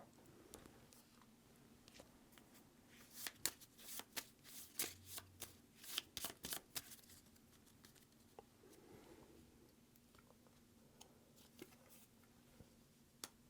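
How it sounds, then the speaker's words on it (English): A deck of public objective cards for a 4X board game of ancient China is shuffled, making a quiet burst of riffling patters and soft taps in a few bursts, close up with no talk. "we're going to shuffle the public objectives cards"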